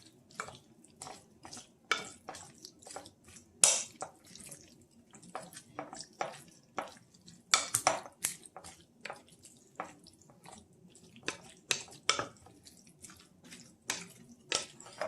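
Broccoli being stirred in a pot, with a steady run of short wet clinks and scrapes of a utensil against the pot, close up and irregular, with no talking.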